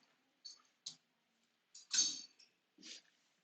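A computer mouse clicks during SketchUp drawing work, giving a handful of short, quiet, sharp clicks at irregular intervals with silence between them.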